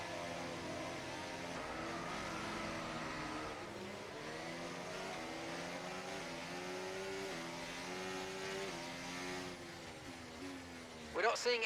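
A race car engine revving at the race start in the video game F1 24, a sustained high-pitched buzzing whine climbing and shifting through gears, steady and fairly even, ending with a short sharp burst.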